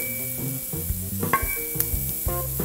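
Two patties, three eggs and four sausage links sizzle loudly on a griddle, a continuous close frying hiss punctuated by sharp metallic clinks and scrapes of a spatula.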